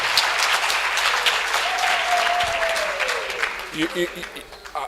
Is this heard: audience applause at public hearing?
yes